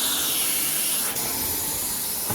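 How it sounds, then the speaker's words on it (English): A carpet-cleaning steam line sprays and extracts, rinsing pre-spray and surfactant from carpet in a continuous close, loud hiss and rush that stays steady throughout. "What that is right there is it's a steam line, has a surfactant in there."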